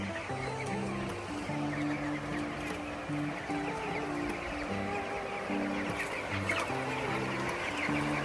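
Many chickens cluck and murmur continuously in a dense flock in a poultry shed during hot weather, with steady background noise of fans running throughout, no voices.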